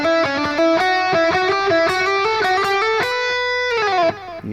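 Electric guitar plays a solo section slowly, a steady run of picked notes in small groups, bright and sustained with a held final note, loud and close, no voices.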